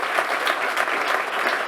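Sustained applause from an audience at a closing evening event in Nantes, many hands clapping steadily and densely throughout, loud and close.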